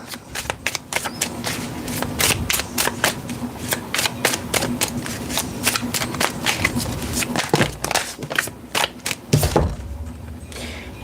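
Playing cards being shuffled repeatedly for a tarot-style reading, a close, crisp run of riffling and snapping bursts in quick irregular rhythm over a low steady hum, with no talking.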